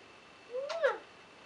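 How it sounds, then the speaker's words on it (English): A small cat gives a single short rising-and-falling meow, close and clear against a quiet room. "I really like to cuddle little cats like this one"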